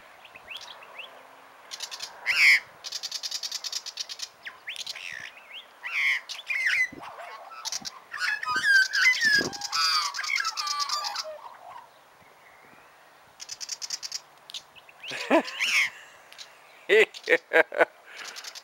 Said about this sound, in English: Poor, poor defenceless magpies being attacked by a vicious little black bird called a Willy Wagtail.